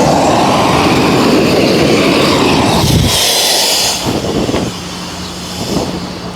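A gas weed burner roars loudly and steadily, a broad rushing flame that drops off and sputters partway through before flaring up again, with no talking.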